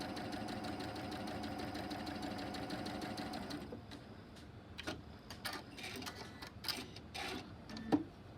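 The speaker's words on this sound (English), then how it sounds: "I'm going to sew on that line." A sewing machine stitching a sunflower quilt block at 1.8 stitch length, a steady rapid whir for several seconds, then stopping, followed by faint scattered clicks and handling noises.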